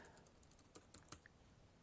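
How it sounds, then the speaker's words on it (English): Someone types a long password on a computer keyboard at a mini PC, producing a quick, irregular run of soft key clicks, close but faint in a quiet room. "I'm just typing in my GOG password."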